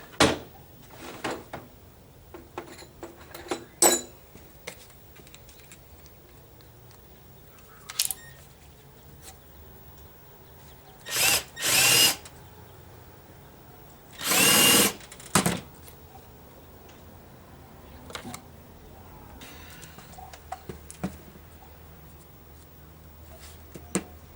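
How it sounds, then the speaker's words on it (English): A drill cuts a countersink into wood for a cheap homemade guitar neck rest. Two short, loud whirring bursts stand out, mixed with scattered clicks and knocks of handling tools on the bench. "I just want to do a countersink."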